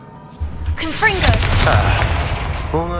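Confringo blasting spell exploding in Hogwarts Legacy, a loud burst with sustained rumbling boom and crackling debris, with a voice briefly heard over it.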